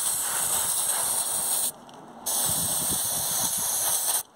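Engine parts degreaser sprayed onto carbon buildup on a Vauxhall Corsa engine, a steady close hissing spray that stops briefly partway, then resumes and cuts off near the end.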